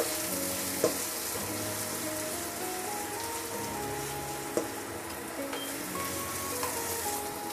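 Onion sautéing in a pan for a simple pork lunch dish, a soft continuous sizzle with occasional light clicks, faint background music beneath.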